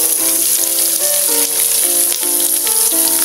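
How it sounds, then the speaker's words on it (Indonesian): Petai, shrimp paste, shallots, bilimbi and bird's-eye chilies fry in hot oil, a loud, bright, continuous sizzle heard under a melodic music track that plays throughout. "Kita goreng dulu di minyak yang panas ya."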